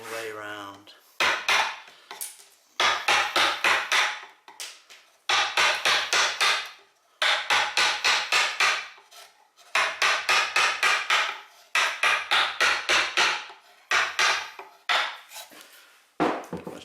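Mallet strikes on a gouge carving a scallop shell from lime wood, coming in rapid bursts of sharp knocks separated by short pauses, close and loud with no talking.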